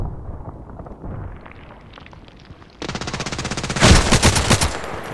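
A KelTec RFB in the shooter game Contract Wars fires in rapid automatic rattles that start moderate, then jump to louder, sharper bursts with heavy booming shots near the end.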